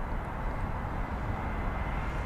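An aircraft taxies on the ground at London Heathrow, a steady low engine rumble and whine at middle distance, continuous and unchanging, with no talking.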